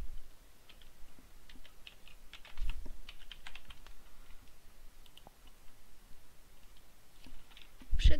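Fingers tap out a password on a computer keyboard, a run of soft, irregular key clicks with brief pauses, close and fairly quiet, ending in a heavier thump.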